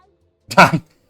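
A single short, oddly pitched meow from a cat in the video game Mewgenics, heard clearly on its own for about half a second amid silence.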